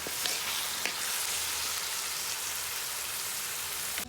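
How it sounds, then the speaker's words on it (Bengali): Mixed vegetables seasoned with salt and a little turmeric frying steadily in a pan, a continuous close sizzle with soft crackles running evenly throughout, no talking. "সবজিগুলো ভাজা ভাজা হয়ে গেছে"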